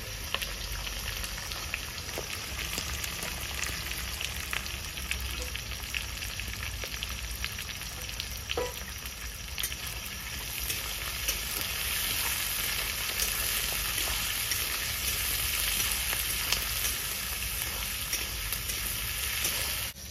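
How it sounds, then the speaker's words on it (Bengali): Onions sizzle in a hot pan for a curry, a steady, dense crackling hiss that carries on evenly without pause. "বন্ধুরা, পেঁয়াজ ফেলে দেবো।"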